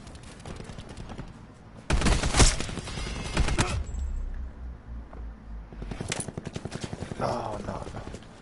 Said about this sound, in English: Firing range.